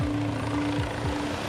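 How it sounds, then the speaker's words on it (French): A SAMU emergency medical helicopter arriving near a beach, its rotor thudding in a steady rapid pulse with a droning engine whine, close and loud, no voices. "Après 10 minutes d'attente, l'hélicoptère du SAMU arrive enfin."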